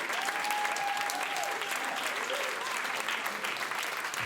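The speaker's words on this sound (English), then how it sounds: "they're clapping for you" Sustained applause from a live audience for performer Ethan Mihaescu at a music event, a dense steady wash of clapping throughout with a faint tonal hum behind it.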